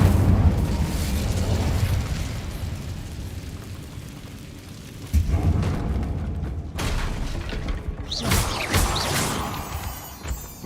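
Incendio fire spell cast in Hogwarts Legacy, heard as a rumbling magical background that breaks into several sudden bursts and whooshing blasts in the second half, loud and near.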